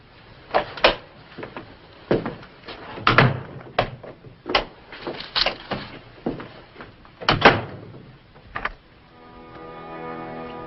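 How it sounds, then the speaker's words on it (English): A door is pulled shut and locked in a dramatized wartime espionage scene, heard as a series of sharp knocks, clicks and latch thuds spread across several seconds, followed by a faint sustained tone at the end. "The door will be locked."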